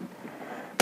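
A single sharp sniper rifle shot from The Walking Zombies 2 video game bursts out suddenly at the very end of a short stretch of quiet background hum.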